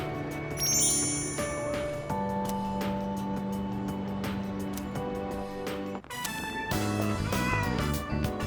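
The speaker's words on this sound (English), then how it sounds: "Was that a cat's meow?" A cat meows in the video game Persona, a few short calls mixed with chiming, tinkling game music and jingles.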